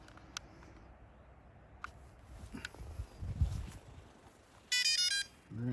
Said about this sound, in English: I'm going to turn on the drone.